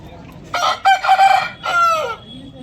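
A country rooster crows once, loud and close, in a drawn-out broken call at a Sunday country chicken market in Vijayawada, with faint market bustle underneath.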